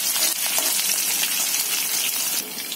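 Curry leaves and green chillies frying in hot oil for a cabbage-and-dal bhaji, a dense, loud hiss of sizzling close up that holds steady before easing slightly at the end, with no voices.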